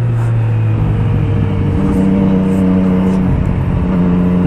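A motorcycle rides through short curves on the Uçmakdere road, its engine droning loud and close with a steady, slightly shifting pitch as it leans through the bends.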